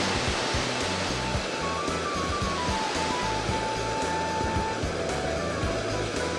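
Rushing waterfall in the Grandia 2 video game, a dense, steady roar of crashing water holding at an even level throughout, with no voices over it.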